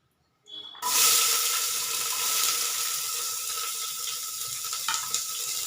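Two medium-sized chopped onions hit hot oil in a pan for a cauliflower kurma, bursting into a loud, close sizzle that settles into a steady hiss.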